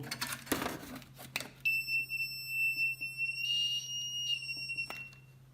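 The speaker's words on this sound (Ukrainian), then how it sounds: "Щось пищить." A few rustles and knocks, then a sustained high electronic beep from a faulty inverter that will not power on, holding steady, briefly wavering, before cutting off near the end.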